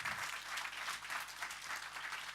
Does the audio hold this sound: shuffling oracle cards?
no